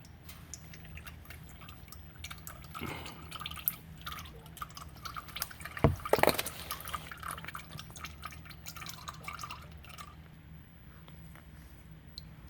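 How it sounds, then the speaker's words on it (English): Engine oil dripping from a 2015 Mazda 3 during an oil change, faint scattered drips into a pan, with a brief louder splash midway in a quiet space. "it appears it's done draining. It's just dripping."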